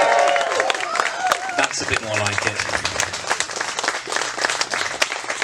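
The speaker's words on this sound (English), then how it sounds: "how about some more whooping and cheering for the beautiful couple?" Wedding guests whoop, cheer and clap for the couple at a ceremony, a dense burst of applause and shouts from a crowd with someone speaking over it near the microphone.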